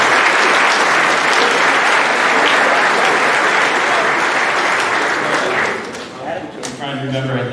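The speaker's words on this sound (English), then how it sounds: "So I think they deserve another round of applause." Loud, dense crowd clapping at an athletic awards night continues steadily, then dies away, with a speaker's voice coming in over the last trailing claps.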